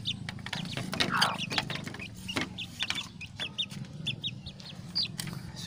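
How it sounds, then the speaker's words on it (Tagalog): Chickens clucking nearby in short, repeated bursts, with a brief louder squawk and a low steady hum underneath. "So may manok na tayo idol"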